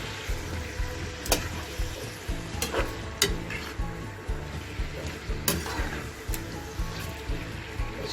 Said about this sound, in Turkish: Şimdi etimin karıştırdım.